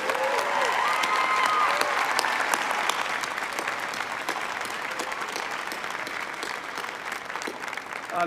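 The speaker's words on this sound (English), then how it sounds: "Akanksha and Josh should get a round of applause for everything they did" Graduates and guests at a university valedictory ceremony break into a round of applause, a loud, sustained wash of clapping from a large crowd that eases slightly in level as it continues.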